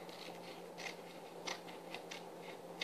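Scissors snip through a Carambar candy wrapper, a series of faint, quiet crisp clips at irregular intervals over a low steady background hum.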